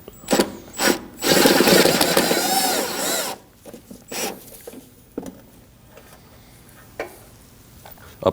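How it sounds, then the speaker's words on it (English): A swivel socket ratcheting out a 10mm bolt on the washer reservoir of a 2016-2023 Honda Pilot: quick clicking ratchet bursts close up, then a longer loud buzzing run, followed by scattered clicks and taps. "I'm using a swivel socket to get this one"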